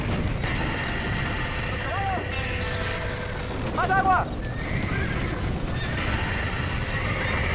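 Horses neighing in the Red Dead Redemption game, two distinct whinnies around the middle of the clip over a busy background of game noise and rumble, with people talking.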